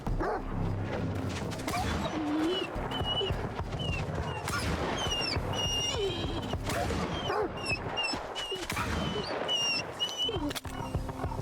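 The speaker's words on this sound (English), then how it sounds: "Sounds like more damn dogs." Dogs in the video game Stalker 2 barking and yelping amid a busy mix of growls, whines and game ambience, the calls overlapping and fairly loud throughout.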